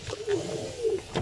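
A sick, ringed racing pigeon coos in soft, low repeated phrases close by, a few rolling calls over about a second with a faint rustle at the end.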